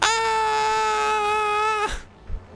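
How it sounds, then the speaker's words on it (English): A psychic shriek ability in Rogue Trader, a Warhammer 40k video game, fires as a loud, piercing wailing cry. It holds a steady pitch for nearly two seconds, then cuts off abruptly, leaving only faint thuds. "Psychic shriek."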